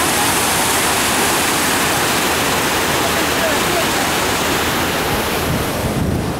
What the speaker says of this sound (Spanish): es tremenda la correntada del arroyo San Lorenzo, que está recibiendo las aguas de todos los campos